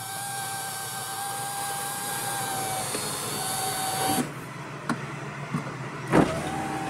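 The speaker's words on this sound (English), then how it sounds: "And then to retract the roof, you've got this button up here," The power roof of a Mini Cooper Sport convertible retracts with a steady electric motor whine for about four seconds, then halts with a few mechanical clicks and thumps as it settles, close and fairly quiet.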